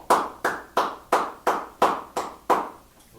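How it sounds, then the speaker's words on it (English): Seven evenly spaced hand claps in a steady rhythm, each sharp and ringing with a short tail, moderately quiet and alone with no talk. "Random clapping?"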